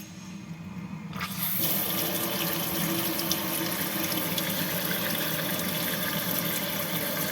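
Tap water gushes steadily from a kitchen sink faucet just repaired, starting abruptly after about a second of quiet and then running loud and continuous to the end, with no talking.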